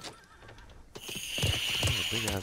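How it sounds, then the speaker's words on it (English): A horse whinnies loudly with a shrill rising-and-falling cry in the video game Realm Royale, after a quieter stretch of background game noise. "Why does he keep kicking up a horse?"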